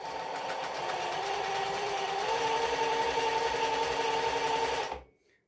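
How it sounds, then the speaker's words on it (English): A Singer 20U industrial sewing machine with a servo motor stitching felt, a loud, steady, fast mechanical whir and needle clatter running for about five seconds before stopping abruptly. "put your needle into your project first before you hit the foot pedal, and then it should stitch a really nice straight stitch"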